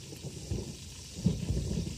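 A thunderstorm effect for a radio drama: steady heavy rain hiss with a low rolling rumble of thunder swelling underneath, continuous and fairly loud, with no voices.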